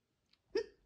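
A single quick hiccup pops out, a short sharp gulping sound preceded by a faint tiny click, close and fairly quiet in an otherwise silent moment.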